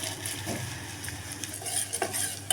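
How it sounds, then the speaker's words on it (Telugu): Flattened rice being stirred and toasted in ghee in a pan over low heat, with gentle sizzling and light scraping of a utensil against metal. "ఇప్పుడు ఇదే నెయ్యిలో మనం"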